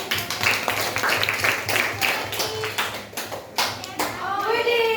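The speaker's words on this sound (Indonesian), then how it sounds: "Boleh tepuk tangan teman-teman." Classmates in a classroom clap their hands together in a brief, uneven burst of clapping close by, mixed with children's voices and chatter.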